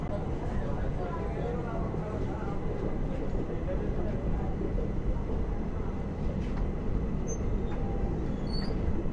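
Ratnachal Express train running, a loud steady rumble and rattle heard from inside a carriage, continuous and close, with faint voices in the background.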